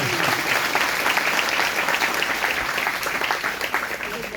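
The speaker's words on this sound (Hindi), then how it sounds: "सभी जोर से तालियां बजाएंगे आपके लिए।" Applause from a church congregation at a Sunday service, steady dense clapping sustained throughout, loud and close, with no talk over it.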